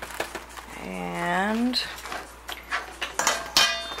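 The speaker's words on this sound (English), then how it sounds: "now I am putting in the penne" Dry penne pasta tumbles into a pot of boiling water on a stove, giving brief clattering rattles as a voice talks over it.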